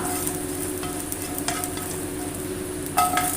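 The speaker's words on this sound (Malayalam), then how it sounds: "നമുക്കൊന്ന് മീനൊന്ന് വറുത്തിടാം" Steady crackling sizzle of mackerel frying in a pan, with a few light clinks and scrapes from stirring; no voices.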